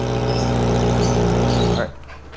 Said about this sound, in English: I don't even want to full rev this bike